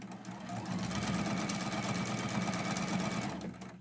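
Sewing machine stitching a seam on a small quilted town-house mug rug, a steady continuous mechanical whir running for several seconds without pause.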